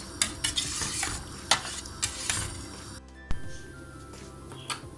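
A spoon stirs chickpeas and beans into a pot of ashure, the traditional Turkish pudding, making several close scraping and sloshing strokes with clinks against the pot, then a quieter pause near the end.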